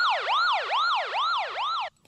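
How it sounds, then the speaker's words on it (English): A police siren sound effect from a UK drill beat, wailing up and down in four smooth, loud sweeps with no pause, then cutting off abruptly near the end. "That's how police sirens go, right?"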